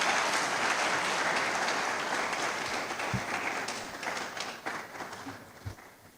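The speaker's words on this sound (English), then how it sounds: "Shall we give him another round of applause?" Audience applause at an annual humanities lecture, a dense, steady wash of many hands clapping that gradually thins and fades toward the end, with a few scattered louder claps.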